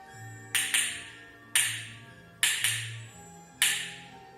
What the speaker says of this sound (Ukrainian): Цей дятел на дереві стукає дзвінко.